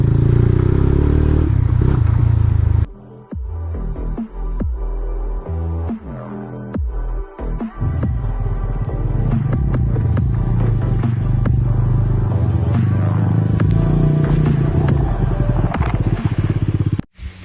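A 2020 Mahindra Mojo 300 ABS BS4 with 22,000 km rides over a bad off-road patch, its engine droning loud and close beneath constant clattering, knocks and rattles from the rough ground.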